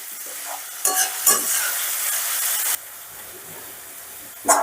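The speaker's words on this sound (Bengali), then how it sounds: "এবারে আমি মিডিয়াম আজে পেঁয়াজটাকে বেশ মুচমুচে করে লাল লাল করে ভেজে নেব" Onions frying over medium heat until crisp and browned: a loud, bright sizzle that swells when they are stirred, with a few clinks of a utensil. The hiss drops back to a quieter crackle, and no one speaks.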